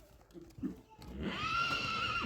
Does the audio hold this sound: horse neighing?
yes